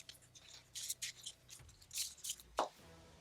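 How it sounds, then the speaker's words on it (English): Cards from the Too Many Bones board game are shuffled by hand at close range, producing several quick, soft riffling and snapping bursts with short pauses between them in a quiet room. "So I'm just gonna shuffle these back up,"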